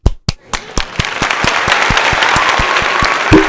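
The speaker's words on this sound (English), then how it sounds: "Can we give a clap for Mimi?" A few sharp separate claps open, then a group breaks into steady, dense applause that holds loud and close until the end.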